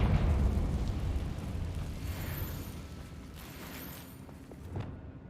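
A Confringo blasting spell in Hogwarts Legacy: a loud, rumbling explosion at the start that slowly decays into crackling debris and a small secondary pop near the end.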